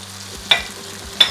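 Prawns fry in butter in a pan under a low sizzle, punctuated by two sharp scraping stirs about a beat apart, close and clear with no voices.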